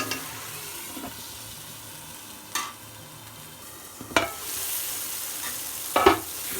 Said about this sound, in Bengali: মশলাটা কিছুক্ষণের জন্য আমি কষাইয়ে নিব।